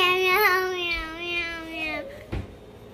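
A voice imitates a cat, singing a long drawn-out wavering meow close to the microphone, then a short thump near the end.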